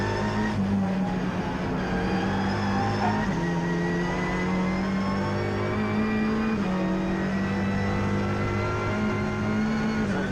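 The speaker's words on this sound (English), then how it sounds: "it is the car of number 66. Just parking itself next to us, Luke Pound, I believe, in that car." A Ford Ecoboost Fiesta race car at an Oulton Park Britcar Trophy round idles as it parks nearby. Its engine gives a steady, droning hum with slight pitch shifts throughout, and no one speaks.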